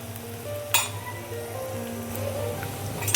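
Ginger garlic paste sizzling in hot oil in a pan, a steady close frying hiss with a couple of sharp utensil clinks against the pan.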